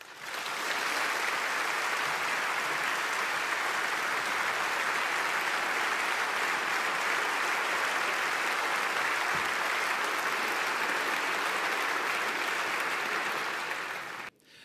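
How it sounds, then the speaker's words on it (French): Parliamentarians in the French National Assembly break into long, sustained applause, a dense wash of clapping that fills the chamber evenly for about fourteen seconds before stopping abruptly. "sous le regard de la famille de Simone Veil, que la force de vos applaudissements pour son combat et pour sa cause tonne plus fort encore que ces insultes"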